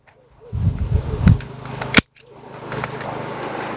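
A dragon fruit cut from its branch on a farm, a rustle of handling followed by one sharp, loud snip, with a person speaking around it.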